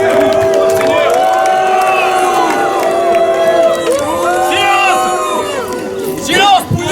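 Crowd at a medieval-style show cheering and shouting in acclaim, a dense continuous roar with whoops and scattered children's cries close by, mixed with chanting voices throughout.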